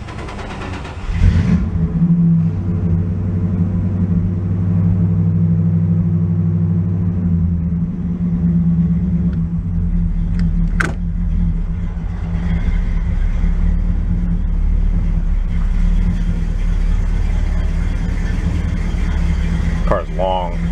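A 1967 Plymouth convertible engine, out of storage for repair, cranks over and catches, then settles into a loud, steady low rumble that runs for the rest of the clip, with a brief revving swell at the start.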